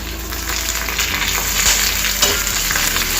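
Curry leaves crackle and sizzle in hot oil over a medium flame while prasadam is prepared, a loud, steady, continuous frying hiss with no talk.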